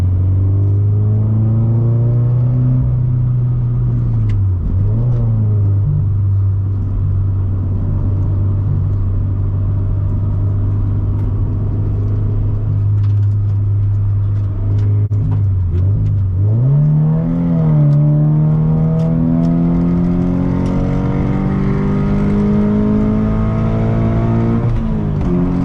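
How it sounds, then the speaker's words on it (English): Exhaust of a 2016 Scion FR-S boxer engine with a six-speed manual, a loud, steady droning rumble that rises in pitch under acceleration, dips briefly at two gear changes, then climbs again. "The exhaust is a little bit too loud for my taste, but it does sound good for a boxer."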